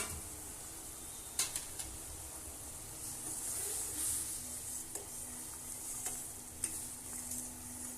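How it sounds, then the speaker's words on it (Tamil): A pot of fish curry bubbling and simmering steadily, a soft continuous hiss with occasional light clicks and pops. "இப்போ நம்மளுடைய குழம்பு நல்லா சூப்பரா கொதிச்சிட்டு இருக்கு மக்களே."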